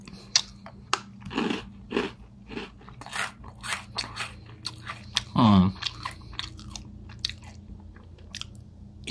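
Close-up crunching and chewing of a Nobby's loaded nuts snack mix of pretzels and rice crisps, with repeated sharp bites and crunches in an irregular rhythm.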